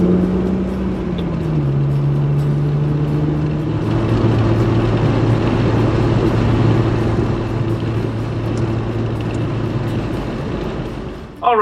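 Inside a 2005 Jeep Wrangler Unlimited LJ Rubicon with a soft top at 55 mph, steady loud road and wind roar fills the cabin, with engine tones shifting as gears change and no talking.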